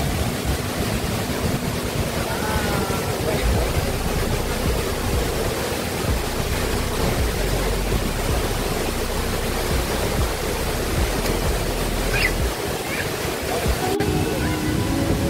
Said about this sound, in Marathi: ठोसेकर धबधबा.